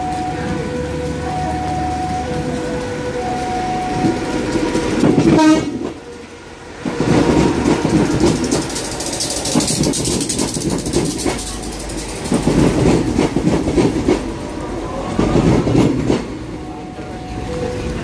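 A commuter train rumbles past through a market in Surabaya, Indonesia, with a steady roar and clattering, a horn tone sounding early on, the noise surging and easing over the span.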